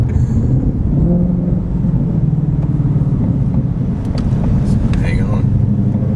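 A Ford Shelby GT500 engine accelerates hard, a deep, steady rumble from inside the car that runs throughout, with voices talking over it.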